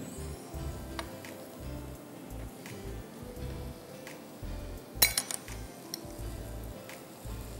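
A knife cuts through food on a board in a run of soft, evenly spaced chops, with one sharper metallic clink partway through, close and fairly quiet, with no talking.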